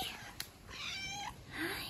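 Several high, drawn-out meows from a calico cat outdoors in autumn, close and fairly faint, with soft whispery human sounds around them.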